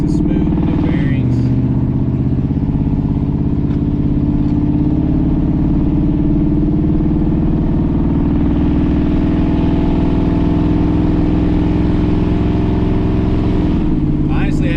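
A car named Larry fitted with new brakes and lower control arms rolls along steadily, its engine and road noise forming a loud, continuous drone with no voices over it.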